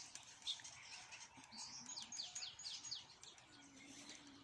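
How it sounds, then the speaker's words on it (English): Backyard birds chirp and tweet near a chicken yard, with quick high calls and short trills over soft background noise, moderately faint and fairly steady. "all our birds are still talking"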